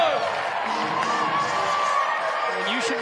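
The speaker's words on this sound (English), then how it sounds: "Give yourselves a round of applause." Crowd at a Banana Ball Tour Championship semifinal game between the Firefighters and Savannah cheers and whoops steadily, a dense wash of voices with occasional shouts rising above, sustained and fairly loud throughout.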